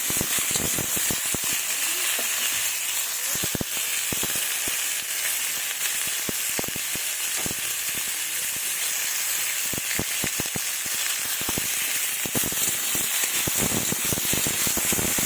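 Rohu fish frying in a pan with salt and turmeric over medium heat, giving a loud, steady sizzle full of crackles and spits that keeps up, close and unbroken, from start to finish.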